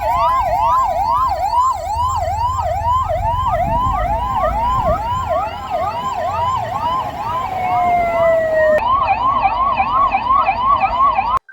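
A 108 ambulance siren wails in a fast, continuous up-and-down cycle, loud and close, over road and engine noise, with a second siren tone joining partway through, on a pilgrim walking route to Ambaji.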